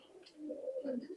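Pakistani high flying pigeons coo softly in a low, throaty burst lasting about a second, close and fairly quiet.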